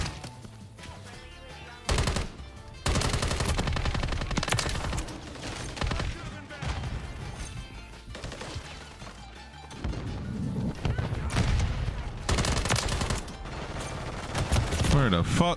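Rapid automatic gunfire from a gun in Modern Warfare 3, loud bursts and sustained rattling volleys with brief gaps, layered over game effects throughout.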